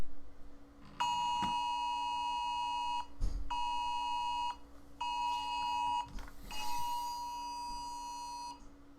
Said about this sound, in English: there's an Amber Alert going on my phone